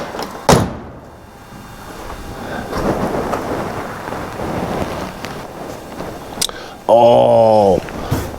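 A Chevrolet squarebody truck door, on a truck under rocker panel and rust repair, is swung shut with a single loud, close metallic slam near the end, after a sharp knock at the start and some low background noise.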